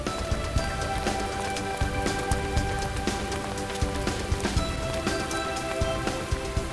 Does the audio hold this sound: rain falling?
yes